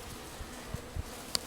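Honey bees inside a shipping package give off a faint, low, steady hum, with a few soft knocks and one brief sharp click near the end.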